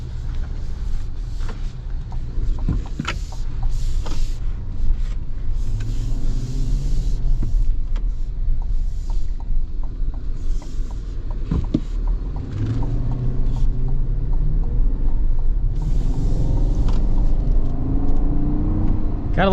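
A large SUV's V8 engine drones low and steady while driving, a continuous rumble with road noise and faint whirring, and occasional soft sounds from inside the cabin.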